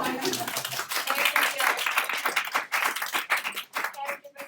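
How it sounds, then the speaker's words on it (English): A small group claps at a gathering about caregiving, the clapping uneven and thinning out toward the end, with voices and chatter mixed in. "Thank you guys so much. Round of applause."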